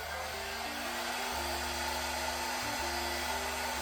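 A hair dryer blows gold paint across a canvas with a loud, steady, close airy roar, its motor tone shifting pitch slightly a couple of times as it is moved.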